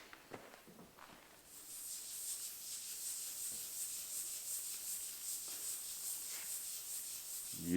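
Soft, steady rubbing as Odie's oil is worked into a wooden panel with a micro-fine 2500-grit pad. A faint, continuous hiss of friction follows a few light knocks at the start, quiet and close, with no talk.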